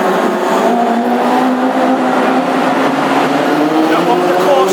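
Classic hot rod race cars at Wimbledon Stadium fire up and rev their engines ahead of warm-up laps, producing a loud, steady, throaty roar with rising revs and a commentator talking over it throughout.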